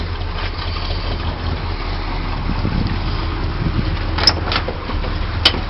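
A 1974 GMC Camper Special 3/4-ton truck with a 454 big-block V8 and automatic transmission idles steadily, giving a constant low rumble with wind buffeting the microphone and a couple of brief clicks, close and fairly loud.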